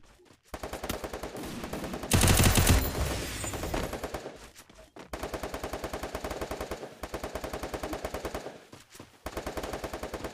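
Automatic rifle fire in the battle-royale game Garena Free Fire: loud, rapid bursts of shots repeating through the clip, with a dense, heavier volley of blasts early on.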